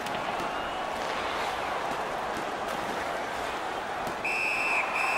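In the NHL 19 hockey video game, a referee's whistle blows in two short shrill bursts near the end, over a steady roar of arena crowd noise.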